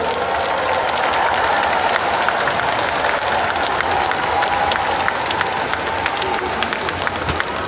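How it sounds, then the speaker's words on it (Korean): Party members at a national party convention break into sustained, loud applause, dense crowd clapping filling the hall steadily throughout without a break. "뜨거운 박수로 응원해 주실 것을 부탁드립니다"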